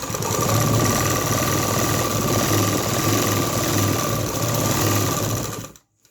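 A sewing machine stitching a kameez fitting near the hip runs in a steady, close mechanical whir with a rapid needle rhythm, then stops abruptly at the end.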